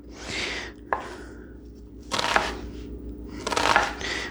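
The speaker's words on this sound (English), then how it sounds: "I got a big knife and a little cutting board" Big knife chopping on a small cutting board, with bursts of several sharp, close knocks spread across the clip and quieter gaps between them.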